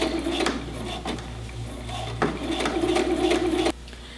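A sewing machine runs a regular stitch with backstitching around a drawstring elastic waistband. It makes a steady, close mechanical hum with several sharp clicks and knocks, and cuts off near the end.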